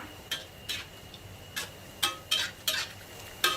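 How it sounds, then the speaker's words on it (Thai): Chinese sausage fries in a pan and is stirred, with a faint sizzle under a series of short scraping clinks from the utensil, several spaced strokes close up. "ทำการขยับเขานะคะ ทอดไปค่ะใจเย็นๆนะคะ"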